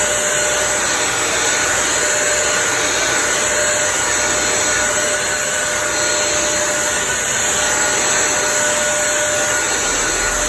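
A Eureka Forbes Euroclean Zero Bend mop and vacuum cleaner runs continuously, a loud, steady high-pitched motor whine with airy rushing, unchanging throughout and heard alone.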